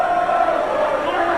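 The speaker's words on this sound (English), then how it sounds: "The crowd trying to cheer Shark Boy on somehow" A wrestling crowd at a live NWA TNA event cheers and shouts for Shark Boy, a dense steady roar of many voices that fills the arena throughout without a break.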